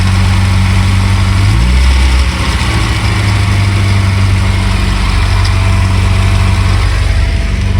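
A 1984 Toyota Van Wagon engine runs again after sitting 25 years, idling loudly and close with a steady, rough low rumble that shifts slightly partway through.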